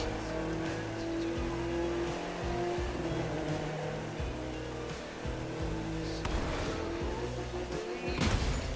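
A Fiat races at speed in the video game The Crew 2, its engine droning with a steady, shifting pitch under road and wind rush. A louder burst of noise near the end suggests a crash or scrape.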